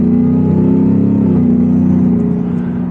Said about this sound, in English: you get more supercharger whine in this than you do in like the Raptor R